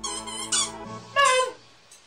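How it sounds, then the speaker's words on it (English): A squeaky toy gives three squeaks, the middle one loudest and longest, each a short bright rubbery squeal with gaps between, close by and without talk. "can you take your squeaky toy somewhere else?"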